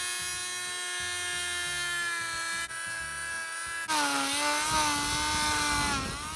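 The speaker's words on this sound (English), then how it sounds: "we're going to use the oscillating tool to cut off that little bottom piece" Oscillating multi-tool with a round blade cutting into a 3/4-inch wooden board, a close, high buzzing whine that drops in pitch and grows rougher as the blade bites into the wood.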